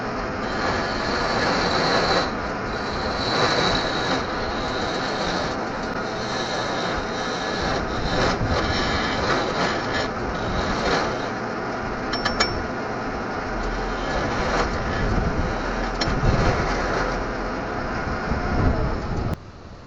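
Wood lathe turning a cheap wooden blank with a beading and parting tool, a steady broadband whir and scraping hiss running continuously at close range, with small tonal squeals and brief catches of the cutting edge throughout.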